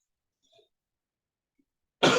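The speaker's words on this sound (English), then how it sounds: "A rainy all day, and I'm coughing a lot." A lecturer's single sharp cough bursts out at the end after near silence, close and loud.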